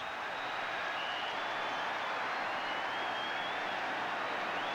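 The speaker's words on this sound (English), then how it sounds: "Look at these Seattle fans. This is a traditional type of cheer that they do" Seattle fans in a stadium at a 1983 Cowboys–Seahawks football game hold a broad, sustained roar of cheering and applause. It stays even and dense throughout, like a distant crowd filling the stands.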